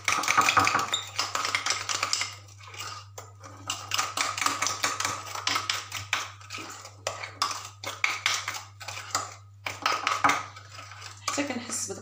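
A spoon clinks and scrapes steadily against a bowl while chocolate bûche cream and egg yolk are mixed in a home kitchen, with dense, continuous metallic taps and a low steady hum beneath.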